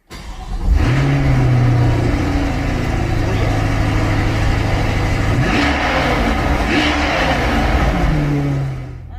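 A car engine cold-starts with a sharp crank and catch, then settles into a loud, close, high idle that dips and rises with a couple of blips before easing off.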